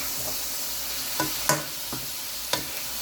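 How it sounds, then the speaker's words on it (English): Beef frying in a pan and being flipped from the bottom: a bright, constant sizzle with a few sharp scraping knocks of the utensil spaced irregularly, close up and without talk. "Then the beef would cook"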